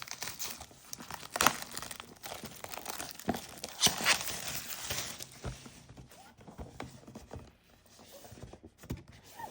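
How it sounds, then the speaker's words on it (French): Plastic wrapping around a DJI Osmo Mobile 6 gimbal and its box is crinkled and torn open up close, with loud irregular rustling bursts that settle into quieter handling. "On déballe."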